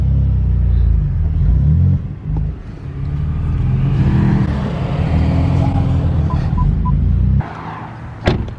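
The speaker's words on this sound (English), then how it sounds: "Right now I'm pulling my car out so we can pull his in the garage." A car being driven out of a garage, its engine rumbling loud and close with a low idle that rises and settles, then cuts off near the end, followed by a few small clicks.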